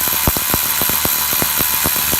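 A Milwaukee M12 cordless 3/8-inch ratchet, model 2457-20, runs on a bolt with a loud, close motor buzz and a rapid, regular clatter of impacts, and nobody speaks.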